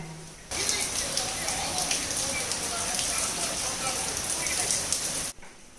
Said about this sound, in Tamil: நான் அப்படியே கொண்டு போய் வெளியில் மழை பெய்யறதையும் காட்டுறேன் பாருங்களேன்.